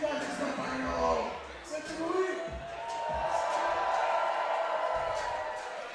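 A crowd at a bouldering competition final cheers and whoops, swelling and holding at moderate distance while a commentator talks over it.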